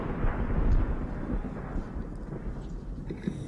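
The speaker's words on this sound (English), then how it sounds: "I mean, that sounds like thunder." A deep thunder-like rumble in the game SOMA, a low, heavy roll that swells early and slowly fades, set under a thick, muffled underwater-style ambience.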